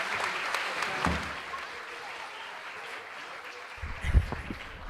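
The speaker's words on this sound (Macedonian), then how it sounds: "Уште еднаш им се заблагодаруваме со еден силен аплауз" Audience applause at a folk ensemble concert in 2023: a sustained, steady clapping from a crowd that swells slightly near the end, with faint voices mixed beneath.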